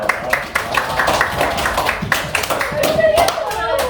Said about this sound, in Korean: 그래서 박수 쳐갑니다.